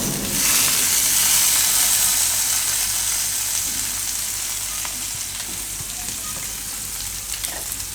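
Flattened rice poha with suran frying in a pan, a loud hiss of sizzling that eases gradually while occasional light stirring knocks come through.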